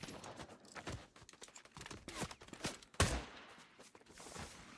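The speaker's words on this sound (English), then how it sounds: "Who is shooting me?" Video game gunfire snaps in quick, faint, irregular clicks and pops, with one sharper burst near the middle.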